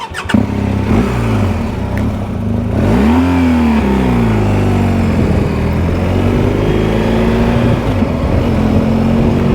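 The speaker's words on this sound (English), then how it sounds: "I don't normally rev that hard when I pull off" A loud, close BMW R1250 GS Adventure motorcycle engine roars and climbs in pitch as it revs hard, then settles into a steady drone while pulling away.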